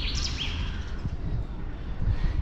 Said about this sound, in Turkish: Kuşlar ötüyor şimdi sadece.